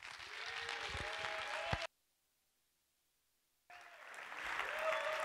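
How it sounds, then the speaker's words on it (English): Audience at an AINx talk applauds a speaker, steady close clapping broken by a gap of silence, then resuming at similar strength. "So a big round of applause for Gabe"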